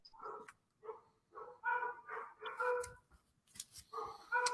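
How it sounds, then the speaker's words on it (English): Dogs barking repeatedly in a broken rhythm of single and doubled barks, close and fairly loud, with short pauses between them and no talk. "Yeah, more dogs."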